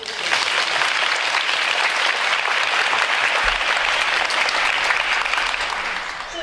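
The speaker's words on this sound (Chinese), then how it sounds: "我们可不可以给一个掌声？谢谢。" A large audience at a Taipei Literature Festival talk claps after the speech, sustained broadband hand-clapping that holds steady for several seconds and tapers slightly at the end, with no voices over it.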